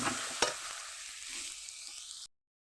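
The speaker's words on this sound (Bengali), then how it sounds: "দিয়ে দিলাম, ভালো করে টমেটোটাও এর সঙ্গে কষিয়ে নেব" Chopped tomatoes stir-fried in a pan with fried spices sizzle close and loud at first, with a sharp spatula knock early on, then the crackle eases off before cutting to silence.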